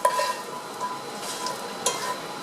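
Stirring in a hot cast iron skillet: a soft, quiet sizzle with a few light scrapes of the utensil against the pan.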